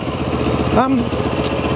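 A 2022 CFMOTO 700 CL-X twin-cylinder motorcycle engine idles close by with a steady, lumpy thumping pulse; a brief rising tonal sound cuts in partway through.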